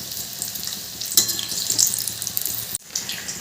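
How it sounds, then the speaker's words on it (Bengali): Stuffed pickled chillies shallow-frying in a pan over low to medium flame give a steady bright sizzle, with a couple of louder spits and a brief break near the end as they are turned. "এবার এগুলো ভালো করে উল্টে পাল্টে ভেজে নিতে হবে দুটো দিকে একটু লাল লাল করে ভাজতে হবে"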